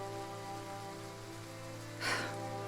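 Steady rain falling in a fantasy game, Triangle Strategy, a soft continuous patter over a low ambient hum with a brief brighter splash near the end.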